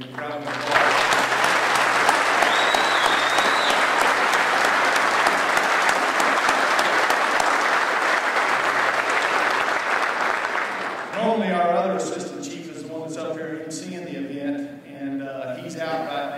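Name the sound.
audience applause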